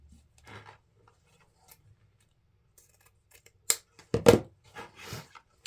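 Scissors snip through gingerbread ribbon in a few crisp, close cuts, preceded by faint rustling handling of the ribbon, with no talking.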